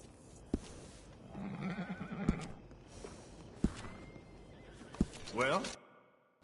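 A horse in Red Dead Redemption 2 gives a clear whinny near the end, after sharp hoof clops and snorts. Someone speaks over part of it.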